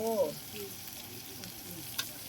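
Pork sizzles on a Thai mu kratha grill with a steady, close frying hiss, a faint voice near the start and a soft clink near the end.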